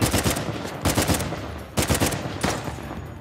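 Bursts of automatic gunfire in Uncharted: The Lost Legacy, four loud volleys separated by brief gaps, each a rapid crackle of shots up close with no talking.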